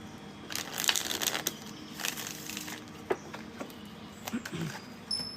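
Tarot cards are shuffled close by in several quick riffling bursts separated by short pauses, with soft handling rustles between them.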